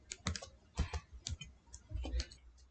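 Someone types on a computer keyboard at a Windows 10/11 PC, a short irregular run of close, crisp key clicks with brief pauses between bursts.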